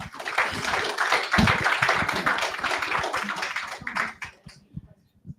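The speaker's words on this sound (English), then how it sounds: "just one more round of applause for them being here" An audience at a panel discussion on higher education in Michigan gives a round of applause, a dense, close burst of clapping lasting about four seconds before thinning to a few scattered claps and fading out.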